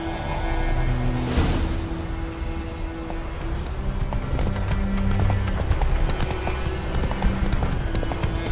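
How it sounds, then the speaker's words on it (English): Horse hooves clip-clop steadily in The Witcher 3, a continuous mid-level rhythm of hoofbeats over a background game ambience, with a brief swelling noise early on. "I'll ready our horses."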